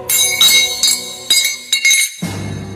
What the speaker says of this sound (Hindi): उड़ाने के चक्कर में उसके हाथ का कड़ा खोल के गिर गया।